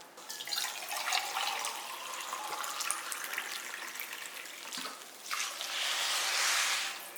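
Water streams and splashes steadily from a tap into rice for sweet pongal, with a louder, fuller rush toward the end and no talking.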